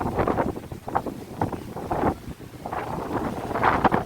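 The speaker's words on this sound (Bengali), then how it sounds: "দেখতে পাচ্ছ কত জোরে হাওয়া দিচ্ছে।" Strong wind gusting in the open, roaring and buffeting across a nearby microphone in uneven surges without pause, with a faint watery background.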